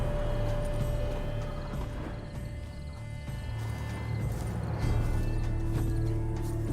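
Horse hooves clop steadily over a busy, droning soundscape in The Witcher 3, with a horse's neigh and a continuous layered hum of background music and effects.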